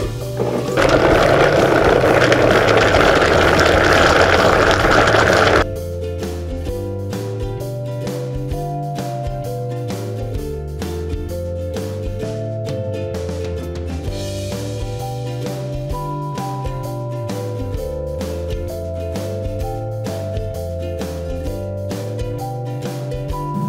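A blender spins on high through vegan cheese sauce, a loud, dense whirring roar lasting about five seconds before it cuts off abruptly, after which rhythmic music plays alone.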